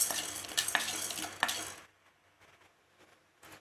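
Dry urad dal rattles and scrapes as it is stirred in a pan for a tamarind rice spice powder, brisk clattering strokes for about two seconds, then near-quiet with faint scattered movement and a brief scrape at the end.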